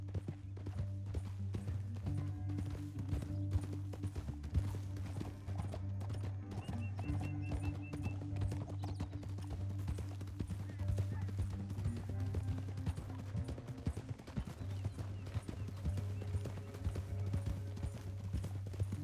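Horse hooves clip-clop steadily and rhythmically throughout in Red Dead Redemption 2, close and clear, over a low droning musical backdrop with an occasional whinny.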